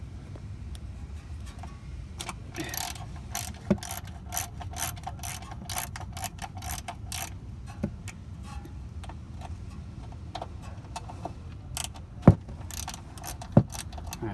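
A ratchet clicks in quick bursts while loosening wheel-area bolts on a Jaguar, close and crisp over a low garage hum, with a couple of louder metallic clanks near the end.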